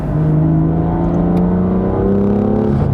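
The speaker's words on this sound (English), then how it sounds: "let's bring up the RPM" A BMW F chassis engine revs up close and loud, a sustained droning hum that climbs slowly in pitch over a few seconds, alone without talk.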